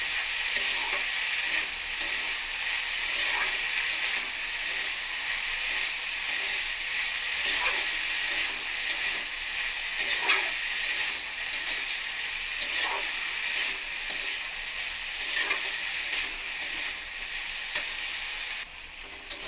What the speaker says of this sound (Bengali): এবার আলুর সঙ্গে এটাকে ভেজে নেব